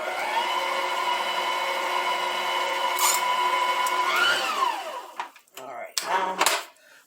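An electric kitchen mixer runs steadily, blending ingredients with a loud, even motor whine. It then winds down in pitch as it stops, and a few clatters and faint voices follow.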